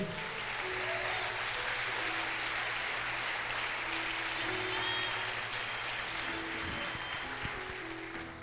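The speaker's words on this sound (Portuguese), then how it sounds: "Você pode aplaudir a palavra do Senhor?" A church congregation applauding during a Sunday evening service, dense sustained clapping from many hands filling the room, with a low organ or keyboard chord held beneath it throughout.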